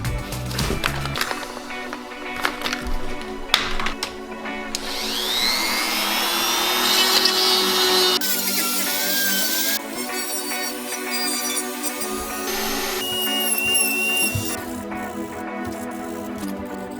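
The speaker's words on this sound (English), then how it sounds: "how much sanding and filing I just did" Sanding and filing on a PVC lightsaber hilt scrape and whir continuously up close, shifting in pitch and texture as the tool works the plastic, with no talking.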